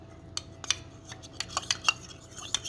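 A spoon clinks and scrapes against a bowl while tomato ketchup sauce is mixed, in quick irregular metallic taps close by, with quiet pauses between strokes.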